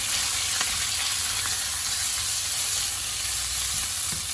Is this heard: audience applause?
no